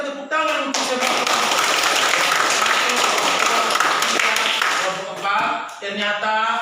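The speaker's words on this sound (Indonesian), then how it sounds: "Sekali lagi kita tepuk tangan untuk kelompok" A classroom of students in a remote village school in NTT claps for a student group, a loud, dense burst of hand clapping lasting several seconds, with talk at the start and end.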